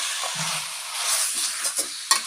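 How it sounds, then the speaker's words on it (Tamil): Chicken frying in oil with onions, ginger-garlic paste, turmeric and salt for chicken varuval: a steady close sizzle runs throughout, with a few soft stirring scrapes and clinks near the end and no voices. "இந்த எண்ணெயிலேயே கொஞ்சம் இஞ்சி பூண்டு பேஸ்ட்டில் மஞ்சள் உப்புலேயே கொஞ்சம் கறி வேகட்டும்"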